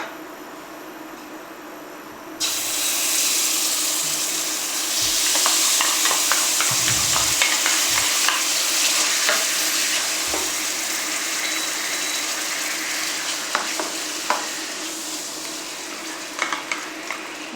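Coconut cream sizzles and fries in a pan as the base for a Thai green curry, a steady loud hiss starting abruptly after a quiet moment, with occasional stirring clinks and crackles throughout.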